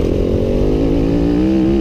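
A 2015 Yamaha WR-F 250 dirt bike engine revs high in a loud, steady, close drone, its pitch climbing gradually across the stretch with no voices present.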